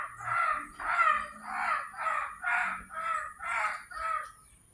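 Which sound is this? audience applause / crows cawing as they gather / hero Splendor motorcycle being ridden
crows cawing as they gather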